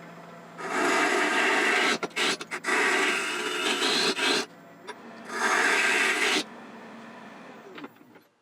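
Rough, rasping scraping comes in two long bursts separated by a short pause as a tool cuts into a wood bowl spinning on a lathe, close and loud.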